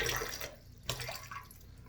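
Tap water splashes and trickles as a wet shaving brush is squeezed and wrung out over a sink, with a sharp splash in the middle and softer dripping around it, close and fairly quiet.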